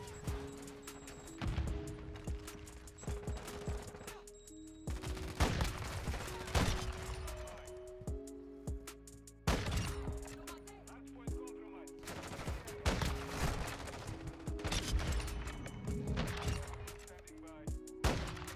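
Rapid bursts of SAB-50 rifle fire in Call of Duty Modern Warfare 2, repeated shots in clusters across the clip with game background sounds and someone talking at times.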